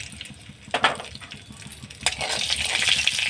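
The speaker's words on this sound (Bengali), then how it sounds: "এবার আমি এই তেলের মধ্যেই একটা শুকনো লঙ্কা, একটু তেজপাতা আর একটু গোটা গরম মশলা ফোড়ন দিয়ে দেবো।" Dried red chili, bay leaf and whole garam masala dropped into hot oil while cooking cabbage dom, giving a soft crackle that swells into a steady, brighter sizzle toward the end, with faint scraping between.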